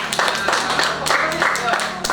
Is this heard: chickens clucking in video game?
no